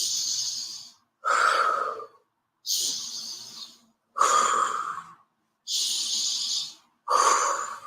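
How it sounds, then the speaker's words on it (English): Deep, slow breaths during a guided breathing exercise, six close and clearly audible breaths alternating between a long airy inhale and a rougher exhale, separated by short pauses in a quiet room. "So breathing in."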